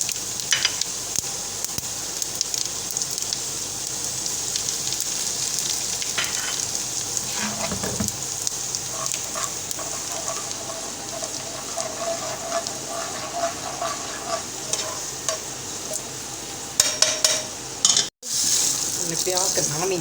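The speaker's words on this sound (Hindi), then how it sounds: "इसको लगाने के लिए तड़का तैयार कर रहे हैं जिसमें मोटी मिर्च," Dried red chilies, cumin and dried coriander frying in hot oil for a tadka give a steady, close sizzle with a bright hiss that runs the whole time, plus a few clinks of stirring.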